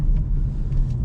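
Manual car entering a roundabout, a low steady engine and road rumble heard from inside, short and constant with no talking.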